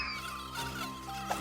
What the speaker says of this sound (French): C'est quoi ce bourdonnement?